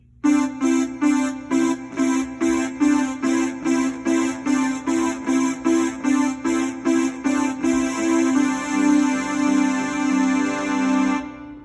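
Piano playing a song, with a steady stream of evenly spaced, bouncing alternating left-hand octaves under chords, moving into a smoother, more sustained passage near the end. No voices.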